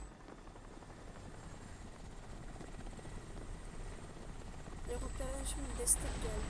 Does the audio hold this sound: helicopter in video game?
yes